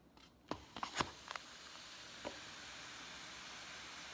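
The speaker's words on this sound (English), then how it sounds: "You can hear the fizzing." Sodium bicarbonate and citric acid fizzing as they react in a coffee cup calorimeter in a 24 °C room, a few quick clicks and splashes at first, then a faint, steady soft hiss.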